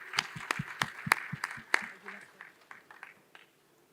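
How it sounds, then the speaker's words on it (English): A few scattered claps from a small audience at a fintech talk, sharp isolated hand claps that thin out and fade within a few seconds. "Let's give him a round of applause as he goes up."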